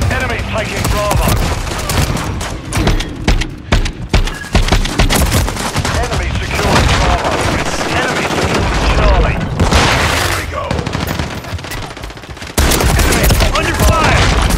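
Dense, continuous automatic gunfire and booming explosions from a Call of Duty MW3 multiplayer match, rapid bursts layered over each other for the whole stretch, loud and close with a sudden louder surge near the end.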